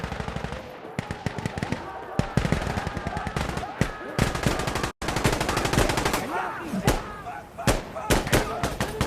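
Rapid machine gun bursts and scattered gunshots crack loudly and almost without pause in an Insurgency: Sandstorm firefight, with a brief instant of silence midway and voices shouting over the shooting.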